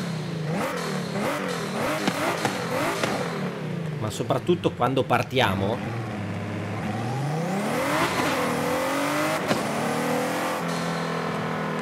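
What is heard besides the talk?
sports car turbo engine accelerating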